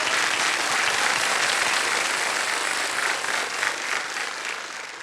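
Dense, continuous applause from a television quiz show studio audience, even and full throughout with no voices standing out.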